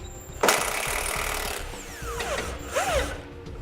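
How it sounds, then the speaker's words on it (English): A ratchet with an 18mm socket works a subframe bolt loose on a 2012 GMC Terrain: a sharp metallic clack, then brief ratcheting and squeaky turning sounds up close. "grab an 18mm socket and pull that bolt out"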